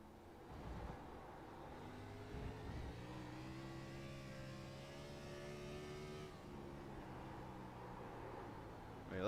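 A race car engine in an Xfinity Series sim racing game revs and strains steadily, its harmonic whine rising and falling as the car is fought through the banked turns, loud and continuous with no talk.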